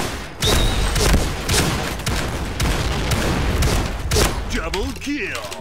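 Rapid bursts of gunfire crack loudly and continuously in the Point Blank shooter game as a player fires round after round, with someone talking excitedly over the shots.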